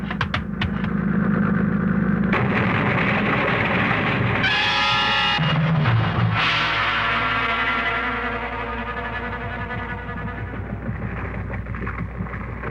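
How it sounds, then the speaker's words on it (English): A motorboat engine drones and grows louder as it approaches, with splashing water and a surge of noise midway, then a lower steady rumble. "Mr. Thurston, that boat, it's getting pretty close."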